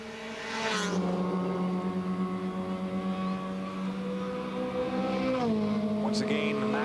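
Acura touring-class race cars at a Montreal circuit, engines holding a steady, fairly distant drone that shifts in pitch as they go through gears, under a commentator's continuous talk.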